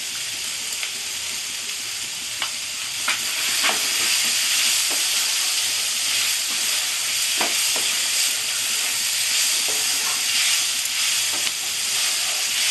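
Lote fish jhuri sautéing in oil in a pan, a constant close hiss and sizzle with repeated spatula scrapes and stirs throughout, no voices.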